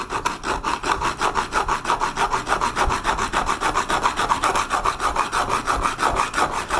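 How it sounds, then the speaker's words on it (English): An MXZ pocket saw with a toothless carbide blade cutting through metal electrical conduit, producing a steady, rhythmic back-and-forth rasping of quick even strokes, close and loud, with no talking. "So the MXZ is supposed to cut through all materials. Again, we don't have teeth, it uses this carbide blade."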